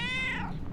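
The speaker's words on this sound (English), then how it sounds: "Talk to cat. Meow." A cat in The Darkest Files video game gives a single close, clear meow that slides downward in pitch, with no talking over it.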